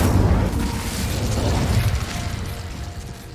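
Fire spell cast in Hogwarts Legacy, a steady low roaring whoosh of flame with crackling texture that fades slightly toward the end, heard alone without talk.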